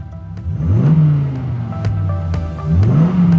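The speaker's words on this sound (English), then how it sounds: "Start your engines." A car engine starts and revs up twice, the pitch climbing, holding, then rising again in loud, close bursts with no voices.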